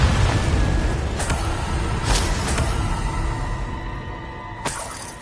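Confringo blast effects from Hogwarts Legacy, a loud continuous rumble broken by several sharp bursts and crackling hits, fading somewhat toward the end.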